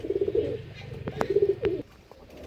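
Pigeons coo in a breeding loft, their low rolling calls repeating in close bursts with short gaps and a few sharp knocks or wing sounds between them.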